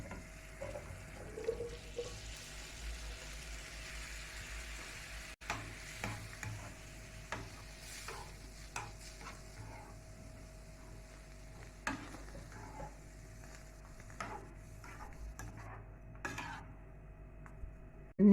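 Fava beans fry in a pan with a little cream, stirred with a utensil that scrapes and taps the metal in scattered clicks over a soft, steady sizzle, close and moderately quiet.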